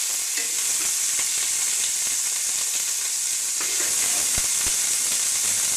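Ginger-garlic paste being stirred as it fries in a pan, a steady close sizzle and hiss with a few spoon scrapes against the metal and no voices.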